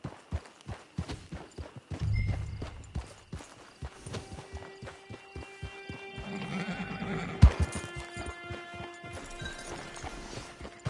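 Horses in the Red Dead Online video game whinny and snort amid steady clip-clop hoofbeats, with a sharp clatter partway through and more hooves and neighs continuing, all without voices.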